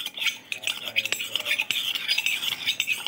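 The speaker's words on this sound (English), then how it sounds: "You want to stir until all the sugar is dissolved." Spoon stirring sugar into a homemade drink, a steady close-up clinking and scraping against the glass with rapid irregular taps throughout, no talking.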